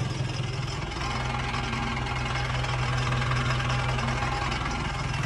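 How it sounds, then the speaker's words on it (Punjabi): A John Deere tractor with its turbo removed idles in a steady, close, knocking diesel chug that runs evenly throughout. "ਆਵਾਜ਼ ਬਾਹਲੀ ਜ਼ਿਆਦਾ ਹੁੰਦੀ ਆ ਟਰਬੋ ਲੱਗੀ ਹੋਈ ਆ ਇਹਦੇ ਨਹੀਂ ਟਰਬੋ ਕਢਾਈ ਹੋਈ ਆ"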